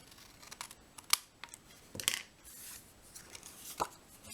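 Scissors trim excess paper from a die-cut card panel, with a few crisp, sharp snips spread apart amid quiet handling rustle, close and fairly soft.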